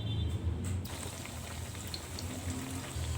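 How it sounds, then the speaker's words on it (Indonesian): Battered tempeh slices (tempe mendoan) frying in hot oil for a second round, giving a steady, dense crackle and sizzle throughout, fairly close and continuous with no voices. "Kemudian goreng kembali."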